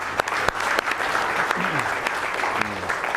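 A seminar audience gives a round of applause, a steady close wash of clapping with a few sharp individual claps. A voice speaks faintly under it.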